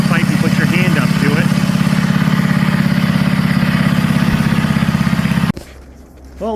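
A 1960s Simplicity Wonderboy 600 engine, about 50 years old, runs with a steady rapid chugging putter, loud and near, then cuts off abruptly leaving quiet background.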